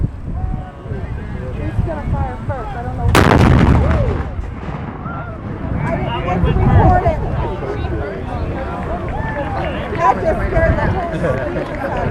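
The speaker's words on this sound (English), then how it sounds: "Alright, so the tanks are gonna go off now." Tanks firing their guns at a D-Day reenactment in Ohio, a single heavy blast rolling out across an open field, followed by distant rumbling and crowd noise while people talk nearby.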